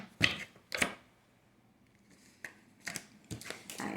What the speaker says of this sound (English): let's shuffle one out of the deck